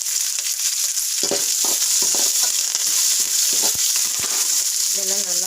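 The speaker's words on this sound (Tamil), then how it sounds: "இதெல்லாம் நல்லா வதக்கிட்டு கத்திரிக்காய் இதெல்லாம் சேர்த்து வதக்கணும்" Green chilies and curry leaves sauté in a pan with a steady bright sizzle and scattered stirring scrapes and clacks. The sizzle is close and continuous, and a voice briefly speaks near the end.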